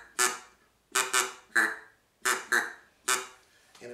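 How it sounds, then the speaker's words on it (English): A Big Lake acrylic gadwall duck call in Royal Oak Pearl is blown close up, giving seven loud, nasal quacks in single and paired bursts with short pauses between. "That's Royal Oak Pearl. And it's a gadwall call."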